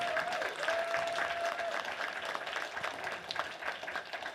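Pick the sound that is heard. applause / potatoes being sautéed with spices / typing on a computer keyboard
applause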